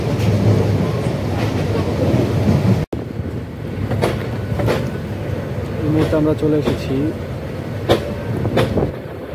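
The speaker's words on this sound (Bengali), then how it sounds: "ট্রেন খুব ধীরে ধীরে কালুরঘাট সেতুর উপরে উঠতেছে এবং খুব ধীরে ধীরে অতিক্রম করবে কালুরঘাট সেতুটি" The Cox's Bazar Express, train 813, rolls slowly across the old Kalurghat bridge with a heavy rumble and sparse rhythmic wheel clacks, while someone speaks over the noise from inside the carriage.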